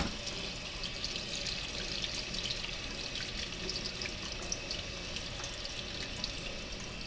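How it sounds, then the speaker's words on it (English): Duck eggs washed under a running tap at a sink: a steady, close rush of flowing water goes on throughout, with small splashes and drips from handling the eggs, and no talking. "I'm going to start washing some eggs."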